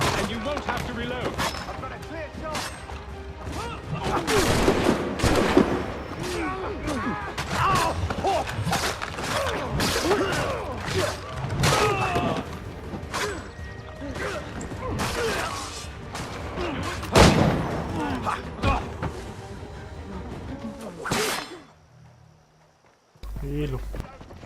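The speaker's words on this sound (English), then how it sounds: "Use those spare muskets and you won't have to reload." Musket gunfire in the video game Assassin's Creed 3, with repeated sharp shots and volleys crackling through a dense battle mix of shouting voices and game noise for about twenty seconds before it abruptly cuts away.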